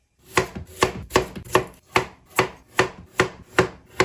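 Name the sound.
knife cutting carrots on a board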